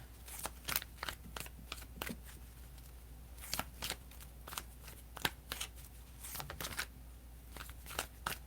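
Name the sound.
shuffling and drawing tarot cards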